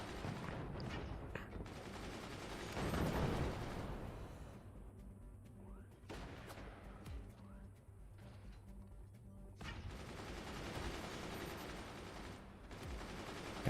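Machine gun fire in the game Moonshot during a tournament finals match, bursts of rapid shots mixed with other game blasts and effects, with a commentator talking over much of it.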